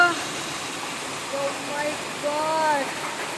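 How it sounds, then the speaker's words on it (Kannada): A continuous broad wash of heavy rain with thunder and hail, steady and fairly loud, with faint voices speaking under the downpour. "ಇಷ್ಟು ದೊಡ್ಡ ಮಳೆ ಬೀಳತ್ತೆ ಅಂತ ಅಂದ್ಕೊಂಡೇ ಇರಲಿಲ್ಲ"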